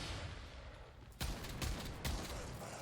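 Kuva Brakk shotgun blasts ring out in the game Warframe, three loud booming shots spaced about half a second apart over a steady background hum.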